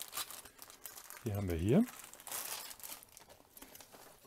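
Plastic bag of Sembo building blocks crinkling in short rustling bursts, close but quiet, with a person talking in between.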